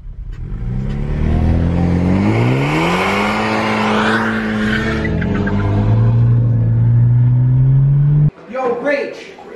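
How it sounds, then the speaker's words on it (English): A car engine revs hard and continuously during a burnout, its rising and falling drone loud and close for about eight seconds before cutting off abruptly, with people talking over it. "Do a burnout! My car's too fast for you."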